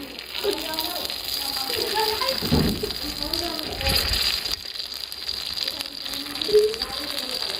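Stuffed chicken keema eggplant slices frying in hot oil, a steady sizzle and crackle running throughout with a few clinks, while someone talks over it.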